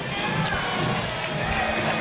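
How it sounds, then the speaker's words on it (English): Large crowd of Minneapolis fans filling the gym bleachers and student section at a Kansas high school boys basketball game, a steady dense roar of chatter and cheering throughout. "Big Minneapolis crowd here."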